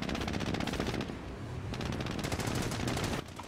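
Sustained machine gun fire from an MG bunker in a World War II-style video game, dense rapid rattling bursts with brief pauses, loud and steady throughout.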